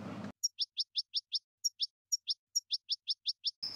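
Goldfinch kept as a songbird, singing a rapid series of about thirteen bright, high chirps and twitters, close and clear, with brief bursts of background noise at the start and end.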